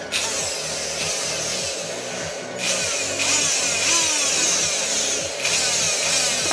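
An electric RC car motor that smokes when pushed too far runs continuously, giving a steady whirring buzz with rough, grinding pulses and swelling louder in stretches.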